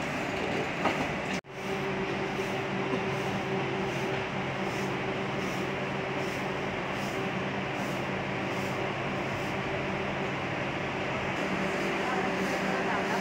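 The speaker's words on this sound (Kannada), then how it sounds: "ಅಲಪ್ಪುಳ ಅಂದರೆ ಅಲೆಪ್ಪಿಯಿಂದ ತ್ರಿಶೂರ್ಗೆ ಹೋಗೋಂಥ ಟ್ರೈನ್ ಬಂದಿದೆ" An Alappuzha-to-Thrissur train arrives at a station with a steady, loud rumble of wheels and carriages that continues throughout, broken by one brief sharp drop near the start.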